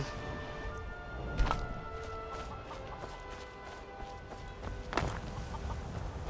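Chickens cluck sporadically at a coop in Skyrim, soft and fairly close, mixed with a few dull thumps like footsteps.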